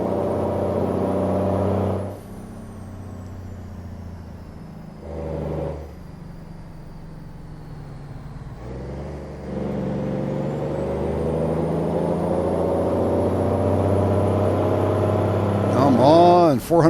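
A truck with a 444-horsepower engine hauling a trailer up a hill in American Truck Simulator, a steady, loud low engine drone that dips briefly and then strains back up, with talking over it.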